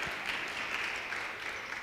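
Applause from the crowd at a public hearing on a climate change bill in a sports centre hall in Parys, Free State: a steady, fairly faint wash of many hands clapping at a distance, with no clear voices.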